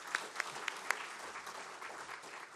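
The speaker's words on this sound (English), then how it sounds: "Let's all give them a round of applause." Audience applause at a military leadership appreciation lunch, a soft, fairly distant patter of clapping with a few sharper nearby claps at the start.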